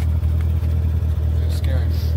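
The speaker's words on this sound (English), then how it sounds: "That's exhaust. That's not clutch." A Corvette C7 Z06 fitted with a Borla X-pipe exhaust produces a deep, steady idle rumble with a regular low pulse, heard close up throughout, while people talk over it.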